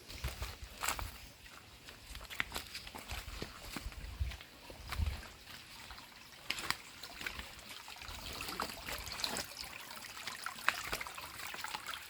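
A small stream of water trickles and dribbles outdoors near a fruiting jackfruit tree, a soft continuous flow broken by scattered taps and footstep-like knocks, with no voices over it.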